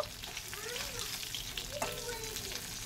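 Fish sizzles and crackles in a small kadai, a steady close-up hiss running the whole time, with a faint voice low in the background.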